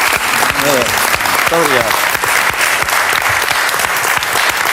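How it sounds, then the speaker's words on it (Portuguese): A studio audience applauds the maestro, the song's composer, on a 1961-era Portuguese television programme; dense, loud clapping runs throughout while someone briefly speaks over it. "Um aplauso para si"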